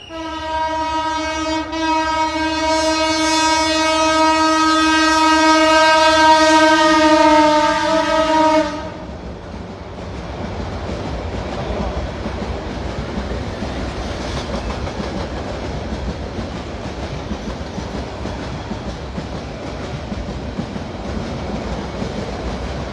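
A train sounds a long, loud, sustained horn for several seconds, then its cars rumble past in a steady roar with faint clickety-clack for the rest of the stretch.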